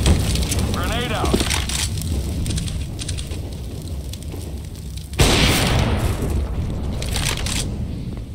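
A grenade blast in Counter-Strike: Global Offensive on the Inferno map: a sudden loud broadband burst partway through, rumbling on amid ongoing game noise, with a brief chirping effect near the start.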